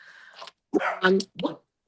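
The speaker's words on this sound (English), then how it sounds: "Here's my dog." A dog gives a few short, close barks and yips in quick succession, in an indoor setting with some background noise.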